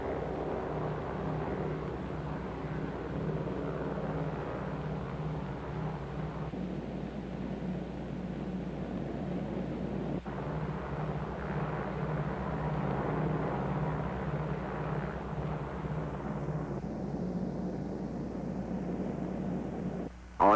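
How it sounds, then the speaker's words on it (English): A bomber flying with escort photographic, weather and instrument planes toward Bikini: a steady, dull propeller-engine drone with broad noise, continuous and fairly distant throughout. "With her escort of photographic and weather and instrument planes, Dave's Dream proceeds to the Bikini target."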